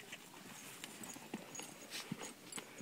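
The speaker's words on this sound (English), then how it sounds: "Those are horses." Horses walking with a steady clip-clop of hooves, soft and somewhat distant, irregular light knocks over quiet background.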